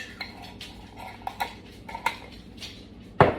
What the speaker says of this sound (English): I'm taking, I don't know, about a tablespoon of some pickle relish